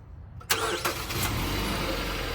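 A 2016 Jeep Cherokee with a communication problem cranks and fires up with a sharp catch, then settles into a steady, close idle after a quiet start.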